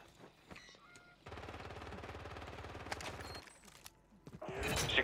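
Automatic gunfire in the video game Call of Duty: Warzone, a sustained burst of rapid shots after a quiet start, followed by scattered single reports and a louder rush of noise near the end.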